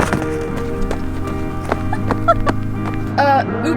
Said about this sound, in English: Oh, wait, those are fucking horses.